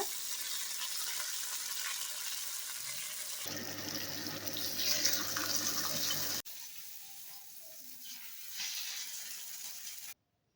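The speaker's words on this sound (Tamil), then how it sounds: "ரெண்டு பக்கமும் திருப்பி போட்டு நல்லா வேக வச்சு எடுத்துக்கலாம். நல்லா ஃப்ரை ஆகட்டும்." Fish fries in a pan with a steady, hissing sizzle. The sound comes in several segments that cut abruptly from one to the next and end in silence.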